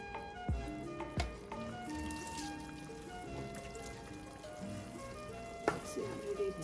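Cooked Mysore Pak mixture is poured from a pan into a tray, with a few soft splats and scraping knocks over a faint background hum and some talk.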